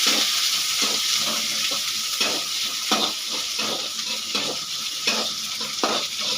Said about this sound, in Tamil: ரொம்ப வதங்கணும்னு இல்லை, லைட்டாக வதக்கிக்கலாம்.